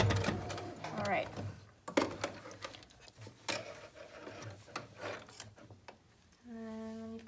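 A sewing machine runs in short bursts as it sews elephant ears onto fabric during a sewing class, faint mechanical ticking and whirring heard under intermittent talk, ending in a brief steady hum.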